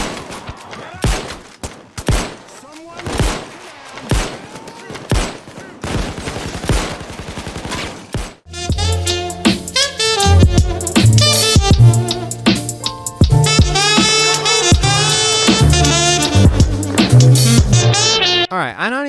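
Gunfire in Payday 2, apparently a weapon from the Fugitive Weapon Pack: a string of separate sharp shots gives way to loud, dense automatic fire backed by heavy music, with no talk over it.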